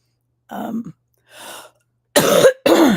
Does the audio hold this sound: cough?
yes